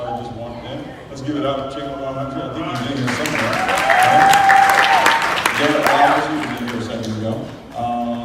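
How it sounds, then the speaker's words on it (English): Applause from an audience swells up under a voice speaking, peaks loudly, then tapers off as talk continues. "Let's give her a big round of applause."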